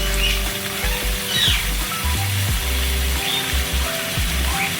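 Thickly cut onions with salt and turmeric fry in a pan, a continuous loud sizzle broken by repeated scraping strokes of a spatula, with a low mechanical hum underneath.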